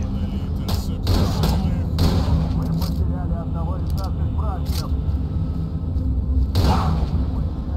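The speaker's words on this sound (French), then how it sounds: "Est-ce qu'il y a des ennemis pour tester mon fusil à pompe?" A pump shotgun fires in the online shooter STALCRAFT, giving a few sharp cracks and thumps mixed into game noise, while someone speaks French over them.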